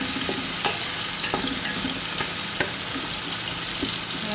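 Fish sizzles steadily in a hot frying pan as it is stirred, with soft scraping knocks from the utensil breaking through the continuous frying hiss.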